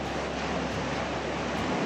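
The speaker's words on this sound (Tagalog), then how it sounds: "Yan yung alon natin." Ocean surf rolling onto the shore at Tiris, Sorsogon, a steady broad wash of breaking waves with a constant rushing texture and light wind noise, close and continuous with no voices.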